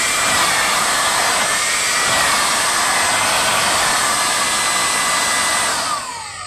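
Electric blower running in a homemade DIY mosquito trap, a loud, steady whining motor roar that continues without pause and eases slightly at the end.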